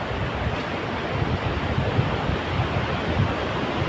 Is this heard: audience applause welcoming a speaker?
no